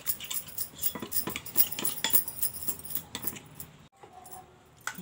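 Spoon and metal bowl clink and scrape as thinly sliced green chillies and spices are stirred together for a small fish fry, a close run of rhythmic clatter that quiets near the end.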